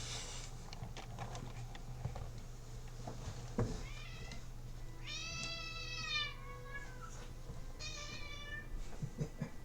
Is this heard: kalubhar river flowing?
no